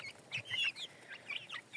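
Chickens cluck and make short, high chirping calls in a quick, uneven series, fairly close, with no talking.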